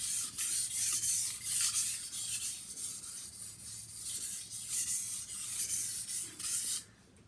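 A kitchen knife edge is stroked freehand across a sharpening stone, a series of close, light, rhythmic scraping rubs with short pauses between strokes, alone without talk.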